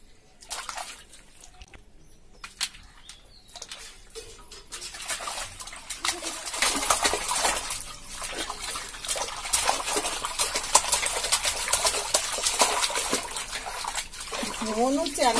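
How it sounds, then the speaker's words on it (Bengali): A small child playfully splashes bathwater onto someone, with steady sloshing, trickling and splattering that build and grow louder, close by, while voices talk and exclaim over the water. "দেখো আমাকে জল দিয়ে চ্যান করাই দিচ্ছে"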